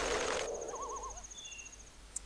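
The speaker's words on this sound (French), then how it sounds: "des petits bruits de hibou plutôt que cette vieille musique toute moisie là qu'on avait" Owl hoots sound in the ambient soundscape of the Zelda Majora's Mask video game, a soft, short wavering call over faint background hiss, with no one speaking.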